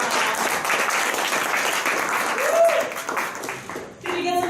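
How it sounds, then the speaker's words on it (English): An audience at a sales-pitch workshop gives a round of applause: dense, continuous clapping with some voices mixed in, tapering briefly near the end before picking up again. "Let's give him a big round of applause."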